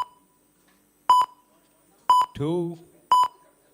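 Sharp electronic beeps from an auction countdown timer at a badminton league player auction, sounding in pairs about once a second, loud and close, with a voice calling a number between them.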